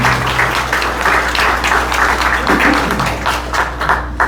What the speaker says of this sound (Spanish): Pido por favor un fuerte aplauso para el doctor Miguel Díaz y García Conyedo por esta conmemoración